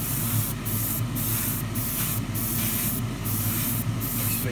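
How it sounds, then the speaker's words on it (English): An airbrush sprays primer onto a 1:24 plastic Ferrari LaFerrari model engine, a steady close hiss broken by several short, sharper bursts, with a low hum underneath and no talk. "the airbrush stays moving and don't spray too heavily in any one area at any one time"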